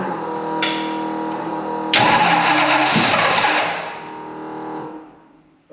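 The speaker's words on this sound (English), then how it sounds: "it has spark and it just tried to start, so go ahead and crank it again" A 1967 Mustang engine, newly fitted with FiTech fuel injection, cranks and briefly catches, a rhythmic whirring starter churn that surges louder, then sputters and winds down to silence.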